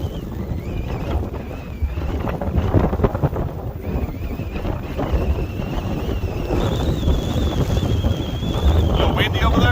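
Strong gusty wind buffets the microphone while riding an electric scooter on a very windy day, a loud continuous roar with rising and falling rumble and a faint whine running beneath.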